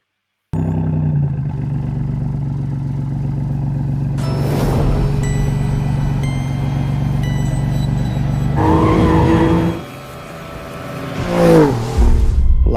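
Race cars roaring through a race in Alfa Romeo footage, steady loud engine drone with bursts of revving and possible tire noise near the end, no talking over it.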